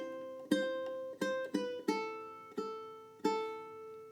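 Solo ukulele picks a couple of bars of the Star Spangled Banner melody as single plucked notes, mostly on the first string, about seven notes in an uneven rhythm, each ringing briefly, close and clear with no talking.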